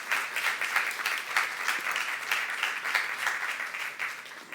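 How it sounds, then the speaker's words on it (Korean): A Korean church youth congregation claps together in praise during a sermon, steady applause with gently pulsing waves of hand claps filling the room. "그 하나님께 박수로 하나님께 영광 돌립시다."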